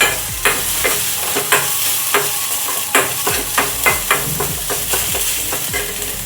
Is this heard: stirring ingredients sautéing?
yes